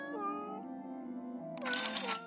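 A mecha cat customer in the cosmic fast-food cooking game Galaxy Burger lets out a short, tonal, sliding meow, followed by a brief bright burst of game sound near the end.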